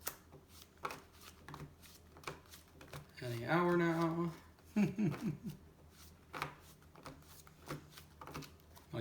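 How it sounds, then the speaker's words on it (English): A deck of Transformers trading cards is shuffled close by in a few quick riffling bursts, with people chatting quietly around it. "Shuffle the deck."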